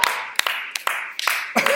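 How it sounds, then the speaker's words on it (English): A small class claps briefly. A handful of sharp, separate claps sound close by, mixed with quiet voices in the room. "Everybody, round of applause."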